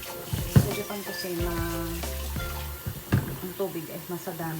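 An open kitchen faucet runs steadily in the background, with clinks and knocks at the sink while a person talks over the flow.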